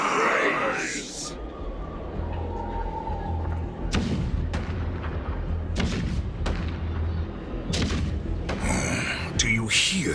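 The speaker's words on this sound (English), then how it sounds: "The rumble of the cannons." Booming cannon fire rumbles through a battle scene in the video game Honkai Star Rail, with heavy low thuds and sharp blasts repeating over a continuous rumbling bed, loud and close.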